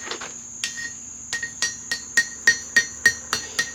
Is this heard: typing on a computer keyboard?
no